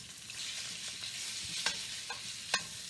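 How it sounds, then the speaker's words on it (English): Cubed salted pork browns in an enamelled cast iron frying pan, giving a steady, soft sizzle with a few sharp clicks as the pieces are stirred, and no talk. "I'm going to put it in this pan too so I can brown some of that meat up."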